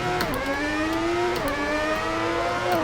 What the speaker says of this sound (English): this Ferrari likes to scream